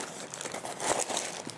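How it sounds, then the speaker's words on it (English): Close, quiet crinkling of a plastic wrapper being pulled off a lightweight AmazonBasics travel tripod, a short burst of soft rustling on its own. "let's take it out of the wrapper"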